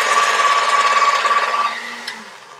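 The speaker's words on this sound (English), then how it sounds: "That noise was my pasta machine." A motorized pasta machine runs at a steady whir with a thin mechanical tone, close and loud, then winds down and fades near the end, used in a kitchen while decorating sugar cookies.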